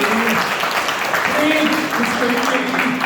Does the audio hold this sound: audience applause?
yes